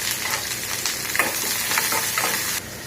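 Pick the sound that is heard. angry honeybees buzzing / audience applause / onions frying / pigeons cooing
onions frying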